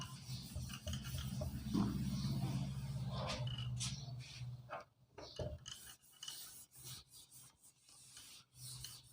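Rubbing strokes of a cloth or duster wiping a classroom board clean, repeated scrubbing passes that are close and fairly soft, with no talk over them.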